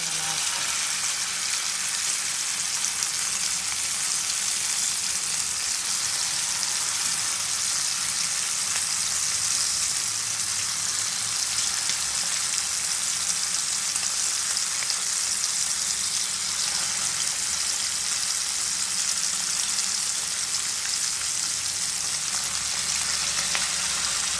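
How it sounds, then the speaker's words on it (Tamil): Fish sizzles and crackles as it fries in hot oil in a pan, a steady, dense frying hiss that continues without pause and without speech. "எண்ணெயில் போட்டு மீன் பொரித்து எடுக்க போகிறேன்"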